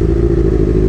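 Many motorcycles gathered at a bikers' meetup, engines rumbling loudly and steadily up close in one dense, continuous roar with no speech.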